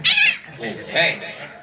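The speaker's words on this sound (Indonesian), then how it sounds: "Kita nonton kucing kawin begini." Cats caterwauling while mating, drawn-out yowling cries rising and falling in two or three near, loud howls, with someone talking over them.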